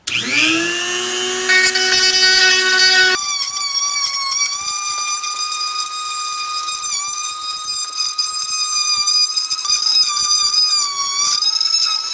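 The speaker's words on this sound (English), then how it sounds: "So I'm going to use this long drill bit on the Dremel and take that off." A high-pitched Dremel rotary tool with a long drill bit whines continuously up close, its pitch shifting and wavering as the bit cuts, loud and alone without talk.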